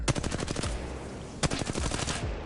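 R-301 rifle in a video game firing in two rapid automatic bursts, sharp repeated cracks separated by a brief pause, loud and close with no talking.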